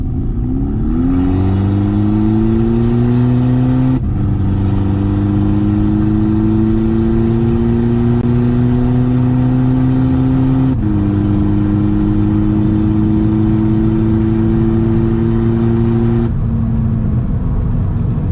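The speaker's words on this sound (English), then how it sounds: "we'll go ahead and make a little 40 pull and see how it does." A tuned VW TDI diesel with a DSG gearbox makes a full test pull, the engine droning loud and close as revs climb steadily, with distinct upshifts marking each new gear and a rising whine.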